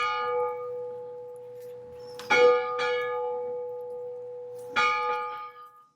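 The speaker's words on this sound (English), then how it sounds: "As a boy, Ernest rang this very bell for funerals." A church bell rings out several resonant strikes, each leaving a long humming decay, spaced irregularly with quiet stretches between.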